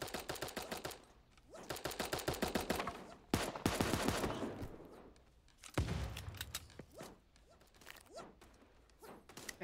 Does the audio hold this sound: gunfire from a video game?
yes